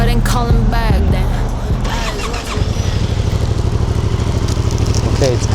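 A 2025 Yamaha MT-07 motorcycle with a stock exhaust runs close by, rising through a rev and then settling into a steady, rapid engine pulse, loud and continuous.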